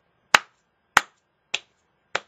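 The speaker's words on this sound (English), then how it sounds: "I'm doing the emote, the clapping emote." Four sharp hand claps from a Fortnite clapping emote, evenly spaced about half a second apart, crisp and close with nothing else around them.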